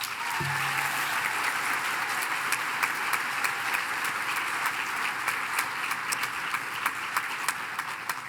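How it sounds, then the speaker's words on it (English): Sustained applause from a large commencement audience for graduates, a steady dense wash of clapping throughout with no talk. "Please join me in a round of applause for these graduates."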